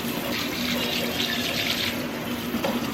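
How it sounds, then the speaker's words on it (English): Hot tap water running steadily into a sink as polished silverware is rinsed, a continuous close splashing hiss with no talking. "And then I take some hot water and I do a once over rinse,"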